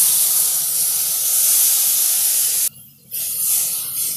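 Water poured into a hot pan of egg curry masala sets off a loud, continuous sizzling hiss that cuts out briefly and then resumes slightly quieter.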